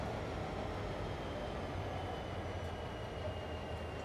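A 2.1-mile freight train hauling 160 loaded cars in Train Sim World 4 rolls with a steady low rumble and faint metallic squeal, distant-sounding and continuous.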